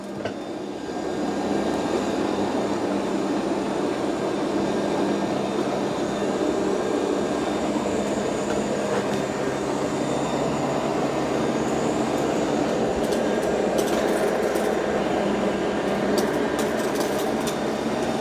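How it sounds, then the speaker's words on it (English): A Shark IQ robot vacuum runs across a house floor with a steady, unbroken whirring drone from start to finish. Its motor and brushes are heard close up, with no talk over them. "It's doing a good job of vacuuming."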